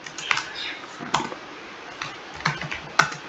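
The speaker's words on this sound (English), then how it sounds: "you just have to type sudo openvpn or thm" Typing a command on a computer keyboard, entering an OpenVPN connection on a Kali Linux machine: a few sparse, close key taps spread over a few seconds, fairly quiet.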